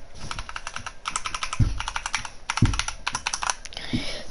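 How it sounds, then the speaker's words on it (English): Fingers type on a computer keyboard in quick bursts of close, crisp clicks, with a few heavier thumps from the space or enter key between runs. "that's my keyboard."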